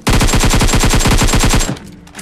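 Rapid automatic gunfire from the mobile battle royale game BGMI, a long burst of evenly spaced loud shots lasting about a second and a half before cutting off into a faint tail.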